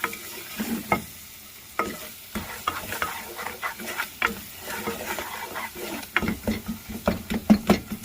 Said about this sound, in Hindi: ऐड करने के बाद दोबारा 1 मिनट तक भूनेंगे